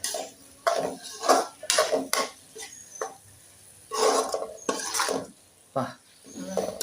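A ladle scrapes and clinks against a pot as mango pickle seasoned with fenugreek is stirred, giving irregular metallic scraping bursts close by, with people talking in between.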